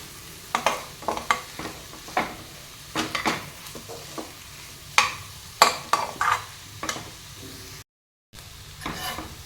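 Potato filling with asafoetida is stirred in a metal pan, bursts of scraping and clinking strokes over a low sizzle, close and uneven, with a brief total dropout near the end.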